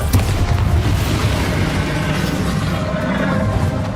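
A Bombarda spell explosion in Hogwarts Legacy during a dragon fight, a heavy boom at the start followed by a loud rumbling roar that carries on throughout.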